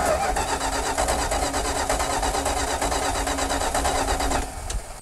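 A Dodge Power Wagon engine cranking on the starter during a compression test, a loud, steady rhythmic churning close up for several seconds before it winds down.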